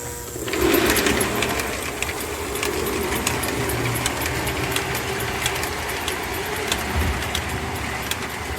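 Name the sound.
Lionel 2020 model train locomotive motor running under load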